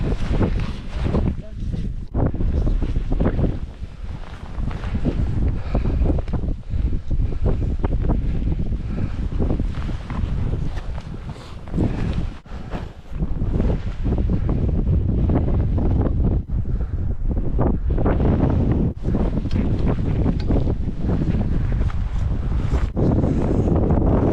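Strong mountain wind funnels through a saddle on Ben Nevis in winter, roaring and buffeting the microphone almost without pause, loud and close, with people talking under the gusts.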